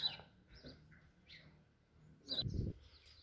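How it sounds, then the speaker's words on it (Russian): Faint bird chirps come in short bursts against a quiet outdoor background on an Italian mountain trail above the sea, with a low thump near the end. "Птички поют"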